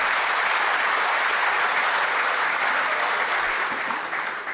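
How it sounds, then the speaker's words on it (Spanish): An audience at an international police congress applauds the speakers, a dense, even burst of many hands clapping close by that tapers slightly at the end. "Un aplauso,"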